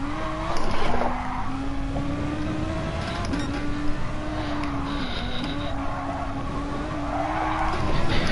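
Race car in GT Sport squirming out of a corner with tires squealing, a steady wavering pitched squeal over engine drone that lasts throughout, close and fairly loud.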